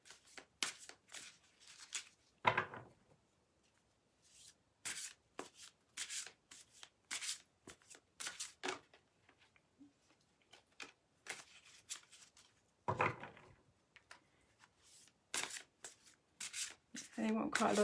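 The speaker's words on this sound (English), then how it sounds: "They want quite a lot of shuffling this evening." Oracle cards are shuffled by hand in repeated soft, papery bursts of riffling and rubbing, close and quiet, with short pauses between bursts.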